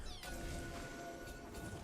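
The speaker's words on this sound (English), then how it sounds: "little kitty emote." A cartoonish cat meows for the kitty emote in League of Legends, one drawn-out call over a busy bed of game sound that lasts under two seconds.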